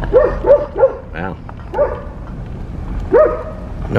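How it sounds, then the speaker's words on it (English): A dog on a rural Oklahoma property barks in a quick series of sharp, close barks, pauses, then gives a few more, loud and near with no one talking over it. "Well, you know, the dog's barking."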